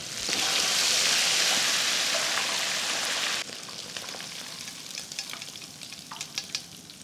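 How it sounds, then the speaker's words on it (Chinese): Shrimp deep-frying in oil heated to about 200 degrees give a loud, dense, steady sizzle that suddenly drops to a softer crackle with scattered pops, with no talking. "这酥脆的声音，你看这虾头这里炸开了，看着就酥脆"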